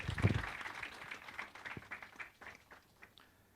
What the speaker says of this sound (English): I would like you to, clap for them and share your appreciation.